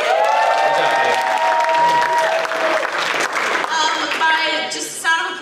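An audience at a live debate show at a fan convention breaks into loud, sustained applause with some cheering, while background tones and a voice sit beneath the crowd noise.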